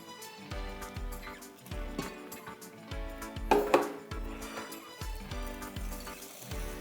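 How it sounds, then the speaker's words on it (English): A utensil clinks rhythmically against a bowl as warm liquid is stirred into eggs for choux pastry cream, a steady quiet tapping close by with no talk. "And while stirring, add a little bit of the liquid."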